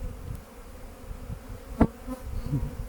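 Low, steady honey bee buzzing hums close by during a hive inspection, with a brief sharp tap partway through and soft handling noises around it.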